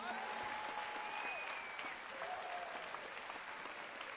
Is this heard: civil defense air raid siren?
no